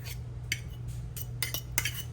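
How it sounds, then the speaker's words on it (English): A fork scrapes and clinks against a bowl while cutting butter into keto biscuit dough, with several short irregular metallic taps over a low steady hum, fairly quiet and close. "And we're going to cut in our butter. You can use a fork, a knife, whatever you want to do, your hands."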